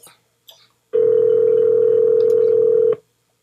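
A steady telephone ringback tone sounds loud and close for about two seconds, held at one unbroken pitch, preceded by a couple of faint brief clicks and then cut off abruptly.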